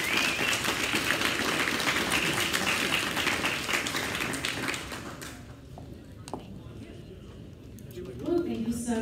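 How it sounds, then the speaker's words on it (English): Audience applause for a panel at a startup summit, steady clapping for about five seconds that fades out, followed by a voice speaking. "let's give a round of applause to our panel"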